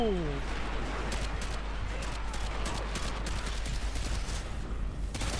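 Rapid gunfire in the shooter game Call of Duty Modern Warfare 2, a dense continuous fusillade of shots beneath a steady rumble, with a player's voice briefly over it.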